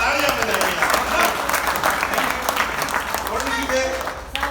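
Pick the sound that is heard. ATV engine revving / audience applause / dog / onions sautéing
audience applause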